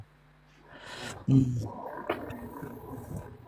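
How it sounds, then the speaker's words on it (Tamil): A cat close by gives a short sharp yowl, with quieter murmuring noises before and after and voices talking faintly around it. "பூனை பக்கத்தில் வச்சுக்கிறீங்களோ?"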